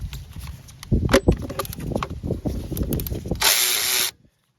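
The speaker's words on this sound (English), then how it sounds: "Next I'm going to loosen up this pivot bolt right here." A 14 mm alternator pivot bolt being loosened on a 2002–2006 Toyota Camry V6, heard as close, irregular metallic clicks and tool knocks, ending in a short burst of broadband ratcheting or rushing noise before silence.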